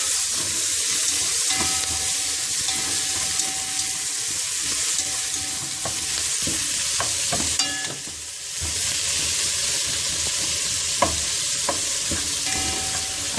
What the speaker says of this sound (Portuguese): Vamos só colocar o tomate aqui e eu já tempero a carne.